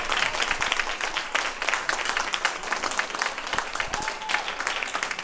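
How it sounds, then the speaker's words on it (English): A church congregation at a Feast of Unleavened Bread service breaks into a sustained round of applause, dense clapping from many hands filling the room with a few scattered cheers. "Give Christ and the Most High Christ a round of applause"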